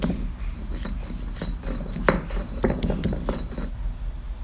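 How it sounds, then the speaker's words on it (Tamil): Garlic cloves and a piece of ginger are ground on a traditional stone grinder, giving scattered hard clacks and scraping knocks of stone on stone at an irregular pace, close and moderately loud with no talk. "இப்போ 3 பல் பூண்டு, ஒரு துண்டு இஞ்சி வச்சு நான் அதையும் அரைச்சி எடுத்துக்கிறேன்."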